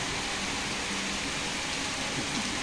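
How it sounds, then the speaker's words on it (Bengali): Heavy rain pours down in a dense, unbroken hiss that stays loud and even from start to finish, with no voices. "দেখেন কত বৃষ্টি হচ্ছে, অনেক বৃষ্টি হচ্ছে"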